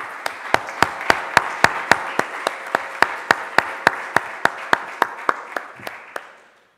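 An audience at a health conference workshop claps in a steady, unified rhythm, about three sharp beats per second, before the claps slow and fade out.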